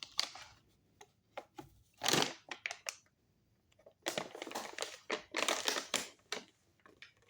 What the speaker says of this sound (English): I'm going to open this bag of M&Ms, peanut butter M&Ms